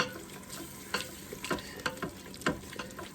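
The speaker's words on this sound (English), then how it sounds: "we want to keep whisking" Jerk gravy being whisked and simmering in a Ninja Foodi Deluxe, with a soft steady sizzle broken by repeated scraping and clinking whisk strokes about every half second, fairly quiet and close.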